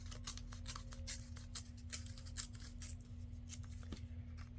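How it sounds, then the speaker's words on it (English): Scrap paper is torn by hand for a craft project in a series of short, crisp ripping bursts, close and quiet, with a faint steady hum underneath and no talking. "Okay, now we'll just tear this one."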